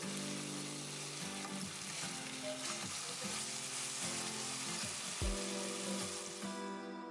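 Sweet potato fries fry in a pan with a steady, close hiss and crackle, briefly shuffled with a soft clatter as they are tossed.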